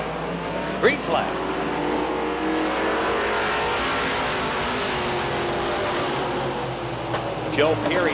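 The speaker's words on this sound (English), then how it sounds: "Cars to qualify, here they come." Stock race cars roar around Lee USA Speedway during the 1993 Oktoberfest qualifying. Their engines drone steadily as the pack passes, with sharper surges at moments, under continuous announcer commentary.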